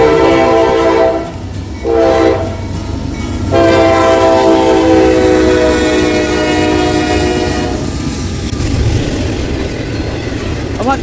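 Norfolk Southern freight train NS201, front engine badly damaged after hitting a truck, passing at New Line, Tennessee with a loud, close horn blast sounding in several long sustained calls over rumbling wheels and rolling cars.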